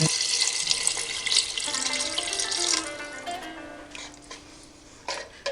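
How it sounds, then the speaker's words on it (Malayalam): Water poured into a pot holding chicken for an Arabian madhguth, a bright splashing rush that runs for about three seconds, then gives way to softer trickles and light clinks. "വെള്ളം ഒഴിച്ചു കൊടുക്കാം."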